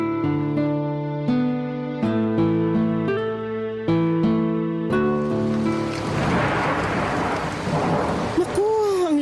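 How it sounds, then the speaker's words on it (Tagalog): Heavy rain pours outside a window. A few seconds of sustained musical tones give way to a loud, continuous broadband rush of downpour that fills the rest of the moment. "Naku, ang lakas ng ulan sa labas ng bintana."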